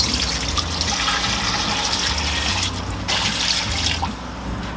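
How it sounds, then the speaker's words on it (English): Water pours steadily into a pot holding about two pounds of bone-in chicken, a close, continuous splashing and trickling stream with no talking. "And I'm just going to add some water."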